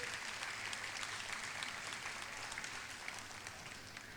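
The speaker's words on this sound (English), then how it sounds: "let's give a big round of applause to the team." An audience claps for a team at a guest artist demonstration, a continuous even patter of many hands, moderately distant and fairly soft, with no voices over it.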